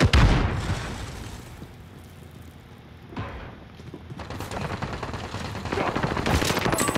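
In a shooter video game, a stun grenade goes off among rapid gunfire, sharp bursts and booms that keep layering over one another in a loud, continuous firefight.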